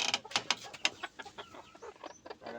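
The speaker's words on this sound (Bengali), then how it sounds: "দেশি মুরগি হলো" Desi chickens and a rooster clucking close by in a short run of sharp, uneven clucks, some louder bursts among softer calls, with no talk.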